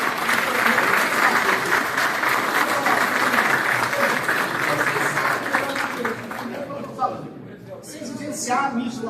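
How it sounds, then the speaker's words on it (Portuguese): Audience at a Rotary youth exchange club certification event giving a big round of applause, sustained dense clapping that tapers off toward the end as voices and talk emerge. "Uma grande salva de palmas a quem estiver."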